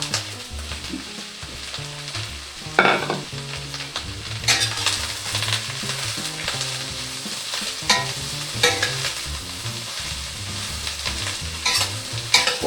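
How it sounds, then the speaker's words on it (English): Onions and celery stir-frying in a wok, a steady sizzle broken by repeated scraping stirs and clanks of the utensil throughout, close and fairly loud with no talking. "We stir all the time, because we don't want to burn anything."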